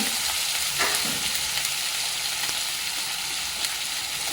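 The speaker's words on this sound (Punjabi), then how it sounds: "ਪਿਆਜ਼ ਥੋੜੇ ਆਪਾਂ ਭੁੰਨਾਂਗੇ" Onions fry in a pan with a steady, close sizzle and crackle that stays dense and even throughout, with a few faint stirring knocks now and then.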